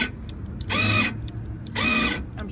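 A cordless drill is run in two short bursts of high whirring, each about a third of a second long, close and loud, with quiet gaps of handling noise between them.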